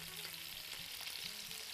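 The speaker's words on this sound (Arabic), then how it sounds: "نقلب اللحمه تحمر شوي" Meat browning in a pan gives a continuous, even sizzle, with faint stirring movements underneath.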